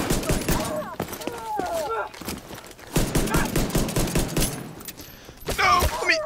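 Rapid bursts of pistol gunfire in the video game The Division 2, with sharp repeated shots and clattering effects in uneven clusters, mixed with game sounds and some talking.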